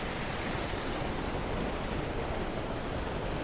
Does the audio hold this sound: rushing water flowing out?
yes